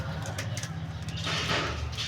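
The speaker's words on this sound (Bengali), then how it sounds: "আমার এই বারান্দায় লালন পালন করা কবুতরগুলো আমার হাত থেকে গ্রেট খেয়ে নিয়েছে" Pigeons kept on a home balcony coo in low, soft, throaty pulses close by, a continuous murmuring call with some rustling and a brief brighter noise partway through.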